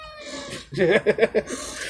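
A house cat gives a short run of wavering meows up close: three or four quick, rising-and-falling calls in quiet indoor surroundings, with no one talking over them.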